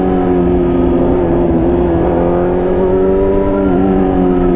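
A motorcycle riding by with a loud, close, steady engine drone and a slight shift in pitch near the end, with no other sounds.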